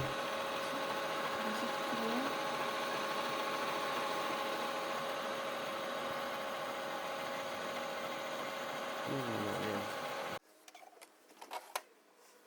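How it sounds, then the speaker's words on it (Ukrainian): An Epson L4150 inkjet printer pumping ink gives a steady mechanical hum with a faint whine for about ten seconds, then cuts off abruptly, leaving a few quiet clicks and bumps. "Розпочинається закачка чорнила. Вона триватиме біля 10 хвилин."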